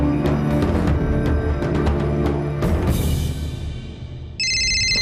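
A telephone rings at a police station, an electronic tone repeating in rhythmic bursts under a tense musical backdrop, then a brighter ringing tone cuts in near the end.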